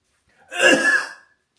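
A single close cough, about two-thirds of a second long, bursts out of silence and fades quickly, with no talking around it.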